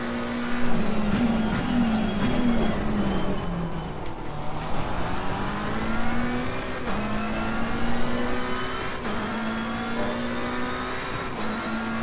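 A McLaren 720S racing engine in Assetto Corsa Competizione at Kyalami, a loud close raspy drone that rises and falls through gear changes and throttle lifts, continuous for the whole stretch with no talk.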